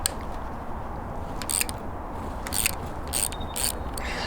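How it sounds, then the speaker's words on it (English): Quick bursts of ratchet clicking on a Triumph Spitfire engine as the rocker shaft bolts are loosened, several short clicky runs over a steady background hum, close and fairly loud. "So the first job is going to be to take apart the rocker shaft,"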